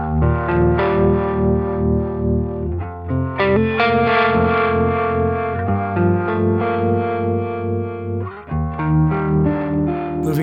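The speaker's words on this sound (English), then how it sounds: "Next up, I've got a harmonic tremolo. This kind of has that uni-vibe style quality to it" Electric guitar through a harmonic tremolo with a uni-vibe style throb on a Line 6 Helix, chords and melodic lines pulsing and warbling steadily, loud and close with no talking.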